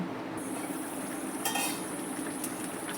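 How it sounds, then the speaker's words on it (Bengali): Mutton curry gravy with potatoes simmers covered over a low gas flame, a steady soft bubbling hiss close by, with a few light metallic clinks of a lid or utensil. "রেখে ঝোলটা সুন্দর করে ফুটিয়ে নেব ঢেকে রাখবো কিছুক্ষণ ঢেকে রেখে ঝোলটা ফুটিয়ে নেব"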